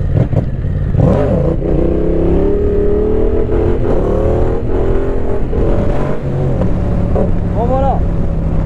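Yamaha Tracer 700 motorcycle engine revving loudly and steadily up close, rising and falling with a higher surge near the end as the rider pulls a wheelie, wind buffeting the microphone.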